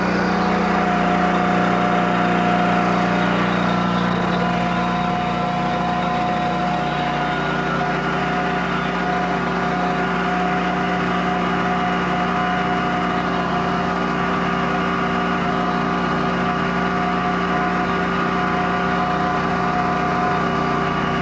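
A gas engine powering the hydraulics of a Diamond C dump trailer runs steadily and loudly up close, its constant drone and hum holding at an even pitch throughout with no talking.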